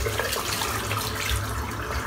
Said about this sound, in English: Let's just rinse this brush out now